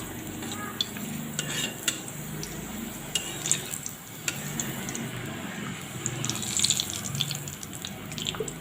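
Papad halves fry in hot oil with a steady close sizzle and crackle, broken by scattered sharp pops and stirring scrapes throughout.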